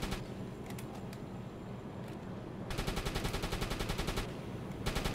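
Aircraft machine gun on a strafing pass in the submarine game Uboat, heard as rapid sustained bursts of sharp, evenly spaced shots, moderately loud, following a quieter stretch of scattered impacts.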